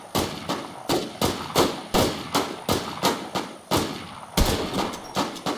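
A rapid series of sharp, loud video game gunshots, about a dozen evenly spaced pops in quick rhythm, close and punchy.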